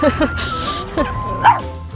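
A small dog in a cafe lets out a few short, high yips and barks in quick bursts, close by, with people talking and murmuring around it.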